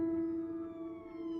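Ambulance siren on Central in Highland Park, a steady high wail holding one sustained tone, fairly faint and distant, with no voices over it.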